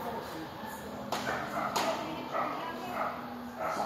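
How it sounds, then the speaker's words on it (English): A small dog gives a few sharp barks at some distance, rising briefly above a steady background hum with faint murmuring. "That's a smaller dog."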